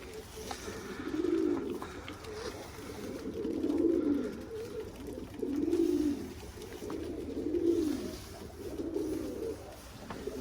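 Pet pigeons outdoors cooing in a slow, regular rhythm, about five swelling coo phrases rising and falling over ten seconds, close and moderately loud.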